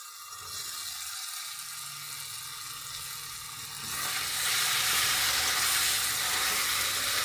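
Chopped tomatoes frying with ground spice paste in a pan for rohu fish curry with potato and cauliflower; a soft crackle swells into a loud, dense sizzle halfway through, close and continuous.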